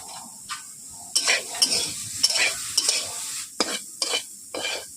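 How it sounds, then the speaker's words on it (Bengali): Beans, potato, brinjal and carrot fry in a kadai as they are stirred: a steady close sizzle broken by repeated scraping stir strokes at an uneven rhythm, with no talking. "বন্ধুরা দেখতেই পাচ্ছেন সবজিগুলো ভাজা ভাজা হয়ে গেছে।"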